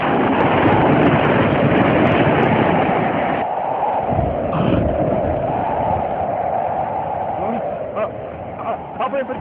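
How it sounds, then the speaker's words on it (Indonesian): Strong wind at sea rushes loudly and continuously in a steady broadband roar, with a heavier gusting passage early on before easing slightly. "Ada angin kencang."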